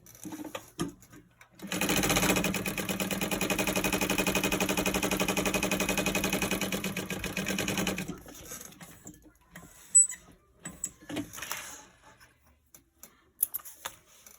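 A sewing machine top-stitches the folded edge of a fabric piece for a crossbody bag's card slots, running in one steady, rapid, loud burst of about six seconds before stopping, followed by faint handling noises.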